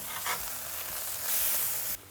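Smash burger patties scraped off a hot griddle with a spatula, a short sizzling crunch of metal on crusted meat, close and loud, over a steady frying hiss.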